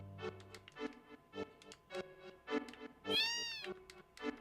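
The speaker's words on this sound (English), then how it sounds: "Kitty cat." Short game-style cat meows repeated in quick succession from a Final Fantasy VII scene, with one longer drawn-out yowl near the end, clear and close with no talking.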